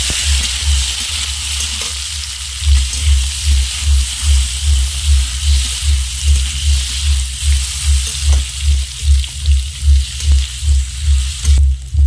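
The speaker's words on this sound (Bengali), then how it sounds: "দেখুন, তেলটা আমার গরম হয়ে গেছে। এবার এখানে সেদ্ধ করে রাখা আলু দিয়ে দেব।" Salt-boiled potatoes hit hot oil in a pan and fry with a loud, steady sizzle close up, under a regular pulsing low hum, with no talking.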